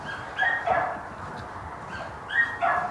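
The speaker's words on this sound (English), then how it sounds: "There's certainly a number of dogs." Distant dogs at a puppy farm barking and whimpering in scattered bursts, several animals overlapping, muffled from behind a fence.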